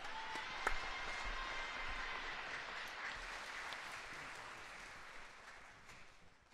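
A large audience at a Miryang civic education ceremony applauds to welcome the city mayor, Park Il-ho, to the podium; steady, dense clapping holds for several seconds at a moderate distance before slowly thinning out, with no talking over it.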